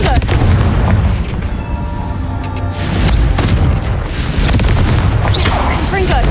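A Confringo spell in Hogwarts Legacy bursts as a loud, close boom with a rumbling tail and further heavy blasts following, filling the whole stretch.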